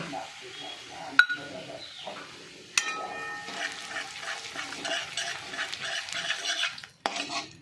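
Turmeric, cumin and chili powder hit the oil left from frying small sea fish and sizzle steadily, with sharp spoon clinks and stirring scrapes close by and a faint voice in the background.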